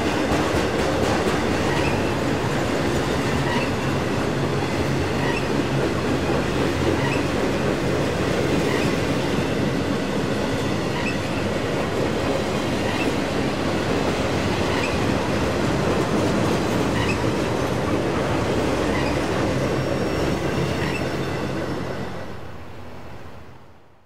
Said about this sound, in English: Slowly creeping uphill into Cresson was Daily Manifest 36A.